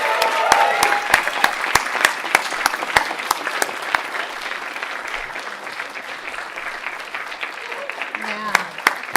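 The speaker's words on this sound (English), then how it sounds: "Warm round of applause for their amazing work." An audience at a UCSF postdoc presentation event breaks into warm applause, sharp close claps over a broad crowd wash that tapers slightly toward the end, with a voice briefly heard among it.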